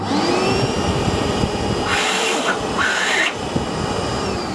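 A DeWalt DXV234P vacuum cleaner running close by with a loud, steady whine and rush of airflow, briefly shifting in tone as the suction changes partway through.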